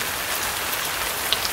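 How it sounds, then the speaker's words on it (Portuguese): Steady, even, gentle rain patters down on a surface at a farm, a soft continuous hiss with scattered drops and no voices. "Agora tá chovendo de verdade, ó."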